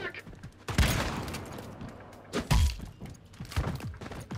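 Shotgun blasts in the video game Once Human: three or four heavy booming shots spaced a second or more apart, loud and close, with thuds and a background rumble between them.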